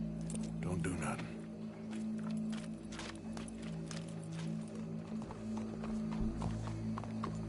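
Rhythmic hoof clip-clops from a walking horse in Red Dead Redemption 2, mixed with music and a low steady hum; moderately loud and continuous.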